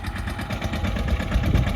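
A tractor engine runs steadily in Mandvi, a continuous low rumbling drone with no break, heard alone and fairly close.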